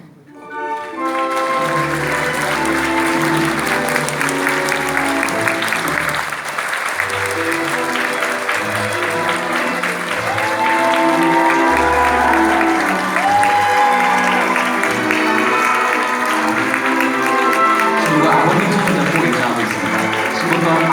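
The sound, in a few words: wedding guests applauding and cheering as the bride enters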